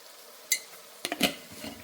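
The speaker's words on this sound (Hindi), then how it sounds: "तो सबसे पहले इसके अंदर हम डालते हैं क्रश्ड चिली 1 स्पून।" A spoonful of crushed chili drops into a pan and is stirred. A short metallic tap is followed by a quick cluster of spoon scrapes and clinks against the pan over a faint sizzle, close and quiet.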